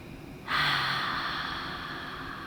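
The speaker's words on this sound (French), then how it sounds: "Expirez par la bouche." A long, audible exhale through the mouth during a yoga breathing exercise, starting abruptly and then tapering off slowly, close and breathy, with no speech.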